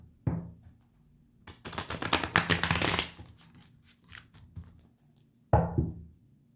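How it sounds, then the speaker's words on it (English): Tarot cards being shuffled by hand in quick riffling bursts, a soft thump as the deck is tapped, then another brief riffle near the end, close and fairly quiet with no talking. "I've already been shuffling for a while with cards"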